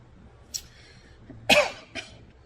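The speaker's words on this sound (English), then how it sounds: "Don't know why I started coughing again today." A quiet pause broken by a short throat-clearing sound, then a harsh, loud cough followed quickly by a smaller second cough.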